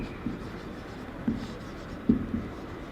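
A pen scratches out a line equation in a few short, soft strokes, close by and quiet, with a pause between bursts.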